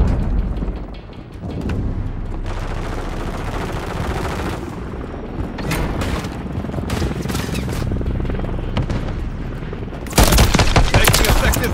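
Gunfire rips through a Modern Warfare III match, with sustained loud bursts and rattling shots running throughout and a harsh, louder volley near the end, with voices mixed in.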